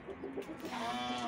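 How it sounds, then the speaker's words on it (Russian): Farmyard geese honk and call in a short burst, fairly close and loud, with harsh overlapping cries among poultry. "2 гуся, которые любят покричать."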